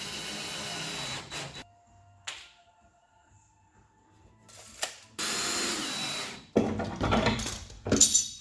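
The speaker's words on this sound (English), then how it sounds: "Now I'll put another screw in down here." Screw driven by a power drill into a plywood bulkhead of a Michalak AF4 Grande skiff hull, in short whirring bursts separated by quiet pauses and clicks, close by.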